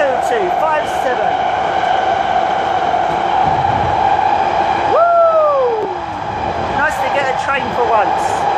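Inside a rattling train carriage, 92257, a loud continuous rumble runs throughout, with a brief rising-and-falling squeal midway and voices talking over the noise.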